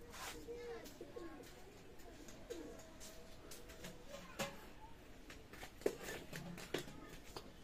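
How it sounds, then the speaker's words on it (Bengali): Oman Teddy pigeons coo softly in a faint, quiet setting, with scattered low coos and occasional light clicks and rustles in between. "দেখেন এক পেয়ার কবুতর আছে ডাইরেক্ট রানিং পেয়ার কবুতর"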